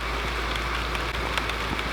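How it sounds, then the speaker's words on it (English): Heavy rain pours down beside beehives, a dense, steady hiss of drops hitting surfaces with scattered sharper patters, constant and close. "It's now absolutely pouring with rain."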